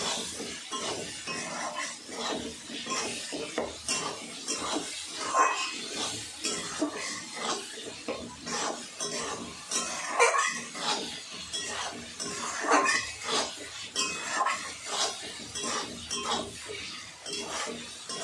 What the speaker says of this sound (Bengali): সব কিছু এখন ভালো করে মিক্স করে নেব।